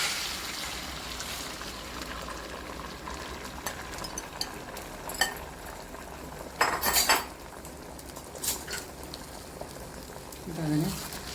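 Egg cooks in heated coconut oil in a pan, with a soft continuous sizzle under clinks and scrapes of a spoon stirring against the pan, and a few louder metallic knocks.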